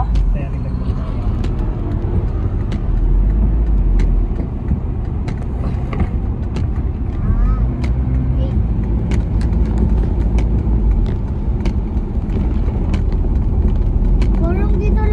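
Car traffic on Katipunan road makes a steady, close low rumble of engines and passing vehicles, with people talking over it.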